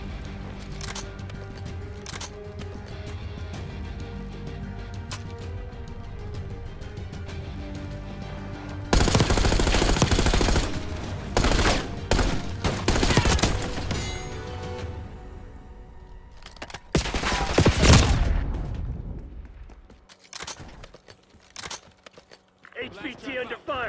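Gunfire in Call of Duty: Black Ops 6 multiplayer HVT mode: steady distant shots give way to loud, dense machine-gun volleys with pauses between them, and scattered shots at the end.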